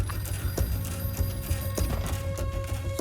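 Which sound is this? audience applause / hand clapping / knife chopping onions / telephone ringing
telephone ringing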